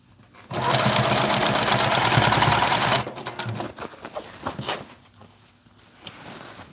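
A sewing machine runs in a steady, loud, close mechanical rattle for about two and a half seconds, then stops, leaving quieter handling clicks and taps.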